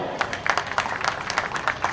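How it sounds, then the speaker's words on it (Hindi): Audience clapping at a drawing competition medal ceremony, a smaller group producing distinct, uneven hand claps at close range, with some crowd murmur mixed in. "जरा एक जोरदार तालियां भाई"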